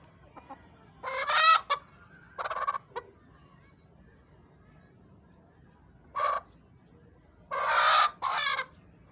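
Desi hens give short clucks and squawks in separate bursts, a few close calls with quiet gaps between them over a faint background hum.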